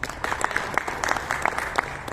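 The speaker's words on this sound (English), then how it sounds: "Can you please give him a round of applause?" An audience at the inaugural session of a financial literacy quiz competition gives a short round of applause, with steady scattered clapping from a medium-sized crowd in a hall.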